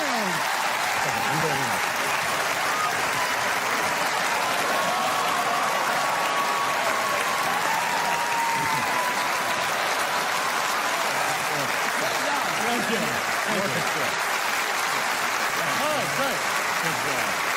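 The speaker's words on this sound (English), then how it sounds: "The crowd goes wild." Stand-up comedy audience applauds and cheers in a continuous, dense roar of clapping and whoops lasting throughout, with faint voices mixed underneath.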